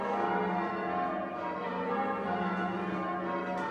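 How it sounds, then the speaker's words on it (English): Eight church bells ring together in a full, sustained celebratory peal, their tones overlapping and echoing without pause, no talking. "And then they were able to ring all 8 bells to celebrate."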